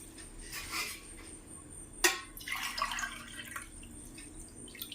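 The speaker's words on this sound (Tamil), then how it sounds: "இதில் நான் 3 டம்ளர் தண்ணி ஊற்ற போகிறேன்." Water poured from a tumbler into a pressure cooker while making sorghum porridge, a short splashing pour followed by a sharp clink and further trickling, close and fairly quiet with no talk.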